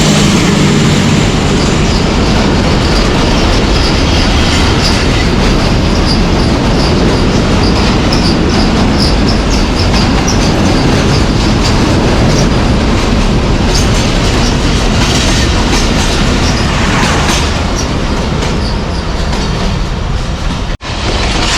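The 104 Down railcar train with locomotive 6421 passes below the Murree Road bridge near Rawalpindi in a loud, continuous rumble with rhythmic wheel clatter and a faint squeal, heard up close for a long stretch.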